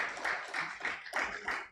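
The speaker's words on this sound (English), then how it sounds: "Please do better with the applause" Light applause from a business panel audience, a modest patter of hand claps in uneven bursts, fairly quiet and sparse.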